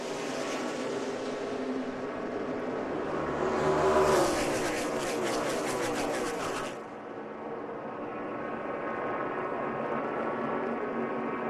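NASCAR stock cars race a qualifying duel at Daytona, a loud droning roar of many engines that swells as the pack thunders past and then settles to a steady hum. Crowd and track noise blend in underneath.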